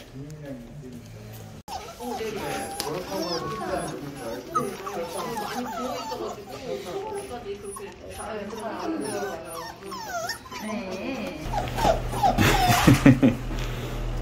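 A sick puppy whimpers and yips in repeated short, high cries at close range, with people talking over much of it and a louder burst of squeals near the end.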